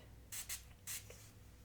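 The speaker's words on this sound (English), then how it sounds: "Spray with heat protectant." Three quick hissing bursts of heat protectant sprayed onto hair during styling, close and crisp with short gaps between them, over a quiet background.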